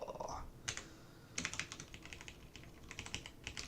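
Keystrokes on a computer keyboard while coding a Rust interpreter, a quick uneven run of close, crisp clicks with short pauses, fairly quiet and with no talking.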